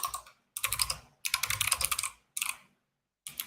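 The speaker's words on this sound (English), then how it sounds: "And now I can start typing." Fingers type in quick bursts on a computer keyboard during hackathon coding work, with dense clattering keystrokes close by, broken by short silent pauses.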